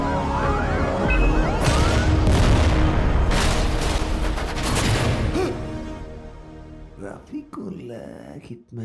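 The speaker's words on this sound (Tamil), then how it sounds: "சக்சஸ்ஃபுல்லா பாம்பு வெடிச்சாச்சு." A bomb goes off in a Tamil film scene: a loud, sustained blast with crackling, gunfire-like bursts and a siren-like wail, which dies away into quieter scattered sounds.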